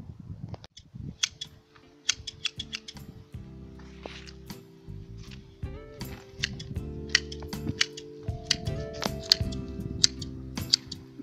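Scissors snip the leaves of a ficus microcarpa bonsai in a run of sharp, crisp clicks and cuts, close and fairly quiet, with no talking.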